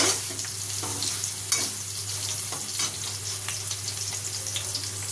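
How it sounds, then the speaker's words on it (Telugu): Onions frying in a pan at home, an even crackling sizzle with intermittent stirring scrapes and a steady low hum underneath, no voices. "ఉల్లిపాయ ఫ్రై అవ్వాలి అలాగే అట్టే కూడా ఫ్రై అవుతుంది చూసారా ఇలా ఫ్రై అవ్వాలి"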